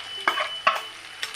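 Chicken kondattam sizzles in a pan as fried dried red chillies are stirred in, with a few distinct scraping strokes over a soft, steady frying hiss.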